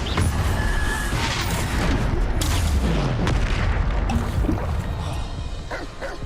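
The Bombarda explosion spell in Hogwarts Legacy goes off as a loud blast, followed by a rumbling, crackling battle din that holds steady and then fades slightly.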